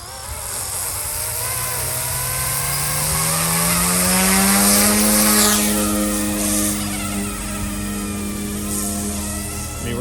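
Small Eachine E150 RTF RC helicopter spinning up and lifting off nearby: a loud, close electric whine that climbs in pitch, then holds steady with a buzzing edge while it hovers and flies, with no talking.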